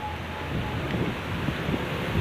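Wind blows outdoors on a morning in the West Sumatra countryside, a steady broadband rush that buffets the microphone and swells slightly toward the end, with no voices.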